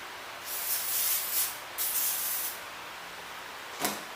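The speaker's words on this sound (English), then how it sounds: "So to make things a little easier, we're going to use some lube. I'm just going to spray the hell out of everything." Aerosol lube sprayed onto a motorcycle front tire and wheel during tire mounting, heard as a few close hissing bursts of varying length followed by one short final spritz.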